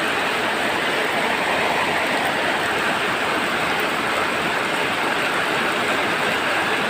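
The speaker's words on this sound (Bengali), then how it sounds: "দুপুরবেলার বৃষ্টি, খুব অজোরে বৃষ্টি হচ্ছে আজকে।" Heavy afternoon rain pours down on a village, flooding a pond, as a dense, unbroken roaring wash that stays loud and even from start to finish.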